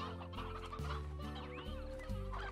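Chickens cluck in the Slime Rancher video game, a busy run of close clucks over a steady, droning game soundtrack.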